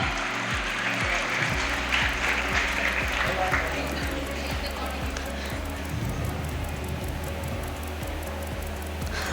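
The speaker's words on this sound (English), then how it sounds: "A huge round of applause for her." An audience at a school investiture ceremony applauds a staff member, with continuous, fairly loud clapping that blends with hall noise and low rumbles from the venue.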